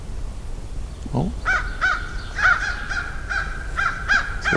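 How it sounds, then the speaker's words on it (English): Several crows caw in a series of harsh, repeated calls outdoors on a cool May morning near a shoreline, fairly close and steady against quiet background. "Lots of crows, but I heard a distant raven too."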